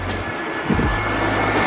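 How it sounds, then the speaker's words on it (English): An airplane coming in to land over Santorini rumbles as a steady, broad engine roar in the open air. Nobody talks over it. "there's a plane coming in"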